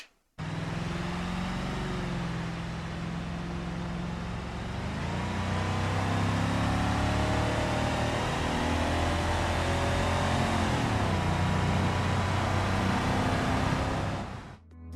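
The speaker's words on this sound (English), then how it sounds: "that was the Gravel Grand Marshal, but very extended" A very extended Gravel Grand Marshal limo drives in BeamNG.Drive, its engine a steady, loud drone with a shifting pitch that carries without a break from start to finish.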